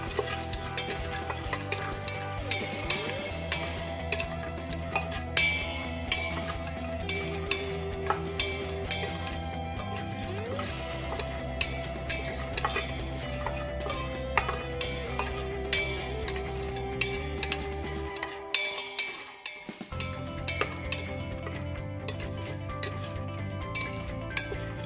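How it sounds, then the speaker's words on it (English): Cardamom pods fry in a pan with a cinnamon stick and tofu. A spoon stirs them, and a steady sizzle runs under repeated clinking scrapes against the pan, then briefly drops out near the end. "and give it a stir."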